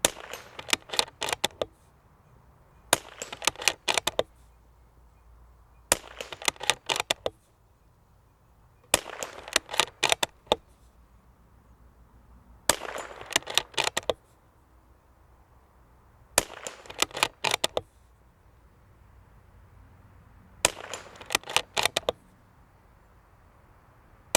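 Suppressed .22LR rifle shots fired outdoors. Sharp, muffled cracks come in about seven evenly spaced clusters with quiet gaps between volleys, fairly close and with no speech.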